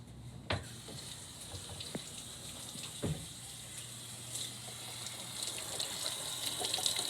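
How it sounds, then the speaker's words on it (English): Oranges are rinsed under a running kitchen tap, giving a soft, steady stream of water with a few faint splashes and knocks as the fruit is handled, fairly quiet and without talk. "Two of this orange, but I'm gonna wash them."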